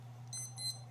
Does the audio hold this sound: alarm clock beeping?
yes